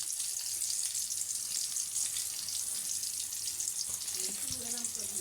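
Food with dried chilies and a little salt sizzling in a frying pan as it is stirred, a steady close hiss and crackle with faint scraping near the end.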